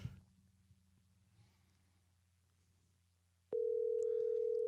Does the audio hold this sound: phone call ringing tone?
yes